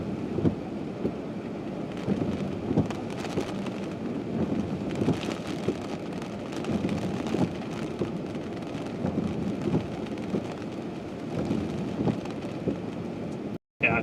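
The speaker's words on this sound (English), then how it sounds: "Yeah, we got pea-sized hail out there." Pea-sized hail falling during a Wisconsin thunderstorm, a steady dense patter with faint rumbling and wind buffeting the microphone, continuous throughout and briefly cutting out near the end.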